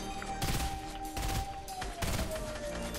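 Gunfire in Fortnite fires in several rapid bursts with hard, dense cracks, separated by short pauses, fairly close and loud over a humming game background.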